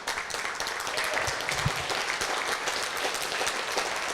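Moderately loud congregation applause in a church, steady clapping filling the moment with a low murmur of voices beneath.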